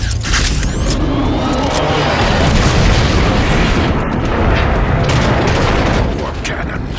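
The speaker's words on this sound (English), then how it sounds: "Warp cannons. Megatron isn't holding back anything this time. It's targeting the Ark" Loud, dense rumbling blasts and roaring warp cannon fire from the video game Transformers: Fall of Cybertron, continuous and heavy throughout.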